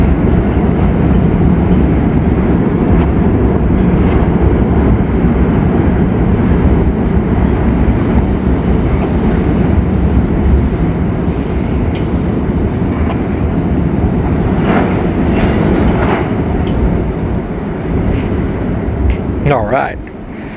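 A long southbound train crosses a very old bridge over the Kentucky River, its loud continuous rumble steady throughout, with brief scattered clanks and a faint voice near the end.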